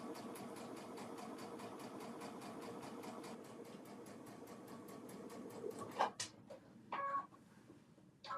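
A sewing machine fitted with a walking foot stitches at a slowed, steady pace, its fast rhythmic needle strokes running continuously up close before stopping, followed by a few brief clicks and handling noises.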